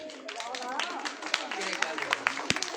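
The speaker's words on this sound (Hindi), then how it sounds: "ताली बजाओ।" Hands clapping in a small group, several sharp claps scattered irregularly under and between children's and adults' talking voices.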